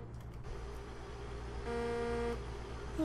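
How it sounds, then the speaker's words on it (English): A low engine rumble runs throughout, then a steady, buzzy truck horn blares for about a second before cutting off. "That horn sounds kind of weird."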